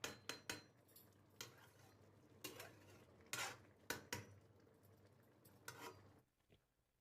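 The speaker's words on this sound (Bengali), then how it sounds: "ঢাকাটা খুলছি আমি" A metal lid lifted off a cooking pot of fish roe and long beans, giving several sharp clanks and scrapes of metal on metal close by, with quiet kitchen background between them and a hush at the end.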